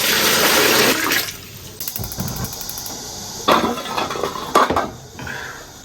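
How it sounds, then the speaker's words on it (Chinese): Water splashes and pours into a pot in a kitchen as a steak is prepared for blanching, with clanks of cookware between bursts of running water. "牛排焯下水，红姜、高度白酒加水。"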